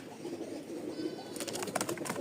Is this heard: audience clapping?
no